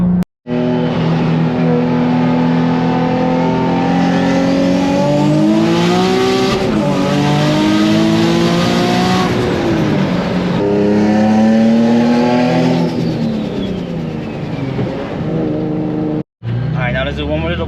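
Nissan 350Z with a rear-mount turbo accelerating hard at full throttle, engine note sweeping up and down through long pulls, loud and close, briefly cutting out near the end.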